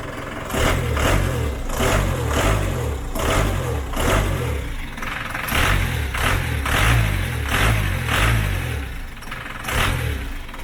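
A diesel engine, a Ford Transit 2.5 diesel fitted in a UAZ-469, revved repeatedly in short bursts, rising and falling in a steady rhythm, close up with no talking.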